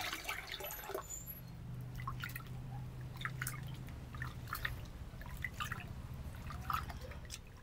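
Rice-washing water poured into an unglazed clay pot while seasoning a palayok, a steady close trickle and dripping splash running throughout with a low hum underneath and no talk.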